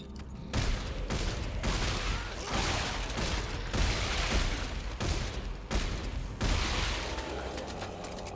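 Gunfire in the sci-fi shooter game Dead Space 3 erupts in loud, rapid bursts, with volleys repeating every second or so over a rumbling low background, and no talking.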